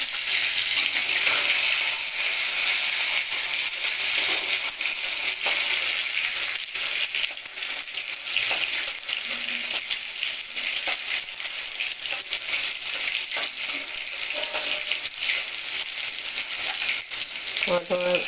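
Finely chopped tomato frying in oil with bay leaf, cloves and cardamom in a wok, a loud continuous close sizzle with occasional stirring clicks throughout.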